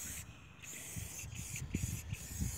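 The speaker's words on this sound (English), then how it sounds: "I don't think about using aerosol spray." An aerosol can of Griot's Garage black satin tire coating hisses steadily onto a tire of a 2015 Nissan Maxima, a close continuous spray broken by brief pauses.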